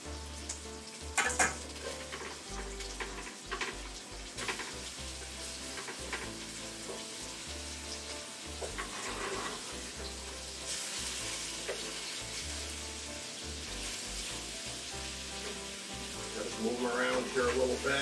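Chicken frying in grease and its own juices, a steady loud sizzle and crackle that carries on throughout with occasional sharper pops and spatters.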